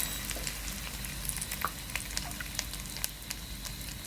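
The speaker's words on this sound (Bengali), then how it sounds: "তারপর আমি দিয়ে দিচ্ছি লিকুইড মিল্ক" Milk poured into a pan of sizzling okra rezala, giving a steady close frying sizzle with scattered crackles and pops throughout, no voices.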